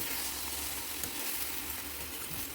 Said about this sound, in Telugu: ఆకు పప్పు కలిసేలాగా చక్కగా ఈవెన్గా కలుపుకోవాలి.